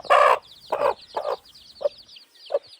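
An Aseel fighting-breed chicken clucks close by on a farm in five short bursts, the first the longest, the calls growing shorter and quieter.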